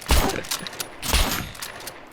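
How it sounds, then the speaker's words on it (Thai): Heavy gunfire bursts out in the survival video game SCUM, shotgun blasts and explosions thudding close and loud in two rapid booming volleys. "ทั้งระเบิดทั้งลูกซองโอ้โห"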